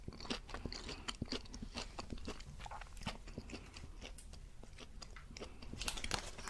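Crunchy McDonald's vegetable fries are bitten and chewed up close in a quiet setting, with a string of crisp crunches and chewing sounds and no talking.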